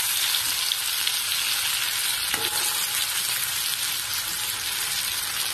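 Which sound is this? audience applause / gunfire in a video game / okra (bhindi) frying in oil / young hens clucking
okra (bhindi) frying in oil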